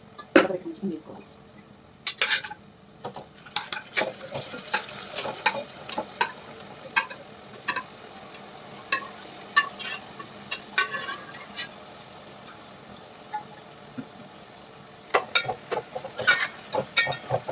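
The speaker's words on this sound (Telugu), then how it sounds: "ఈ కలర్ వేగిన తర్వాత అందులోకి ఇందాక చికెన్ వేసుకోవాలి." Country chicken frying with browned onions in a pan, a soft sizzle under repeated stirring and the scrape and clink of a spoon against the pan, with bursts of louder stirring near the start and end.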